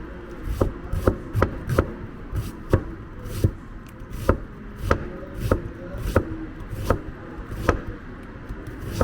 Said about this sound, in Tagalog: So i-chop nyo lang naman ninipis itong itong onion